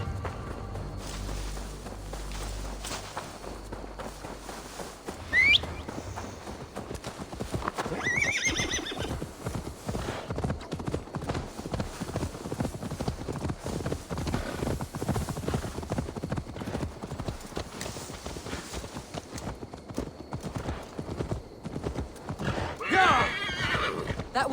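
A horse in a video game whinnies several times as its hooves clip-clop steadily on the ground, close and continuous over low game ambience.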